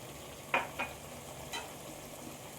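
Mutton frying in a pan with a large tomato, green chillies and spices, a low steady sizzle with a few brief stirring scrapes and clatters near the start and middle.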